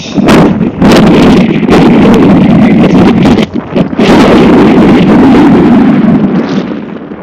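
Strong wind roars and buffets the microphone at an outdoor ball game between Appomattox and the Dan River Wildcats. It is loud and constant, with gusty surges and brief dips, and no voices are heard.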